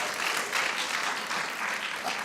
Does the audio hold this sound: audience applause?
yes